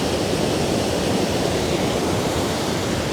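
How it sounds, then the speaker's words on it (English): Flash floodwater from a tropical storm rushes over a road in a loud, steady roar of churning water, close and constant with no voices. "That is a lot of water."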